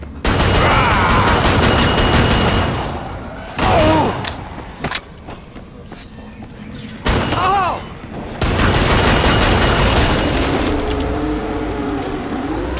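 Gunfire from Killing Floor 2 on the Krampus Lair map, with rapid bursts of shots in loud clusters broken by short gaps, mixed with game voices and other effects.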